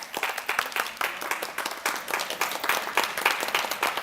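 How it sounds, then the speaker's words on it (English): An audience at a primary school claps for Year 2 students, a brisk, moderately loud round of applause with individual claps audible in a quick, uneven rhythm. "So if you give them a big clap"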